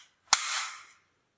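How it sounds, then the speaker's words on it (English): A single sharp crack from an MP5 toy gun, close and loud, followed by a short fading hiss, with silence around it. "Wow, MP5 toy guns."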